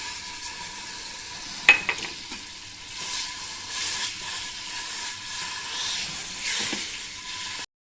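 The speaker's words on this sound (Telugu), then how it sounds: "జీడిపప్పు వేసి ఫ్రై చేసుకుందాం" Cashew nuts fry in a pan for dry fruit laddu, a soft steady sizzle with a sharp clink near the start and gentle swells of hiss before an abrupt stop.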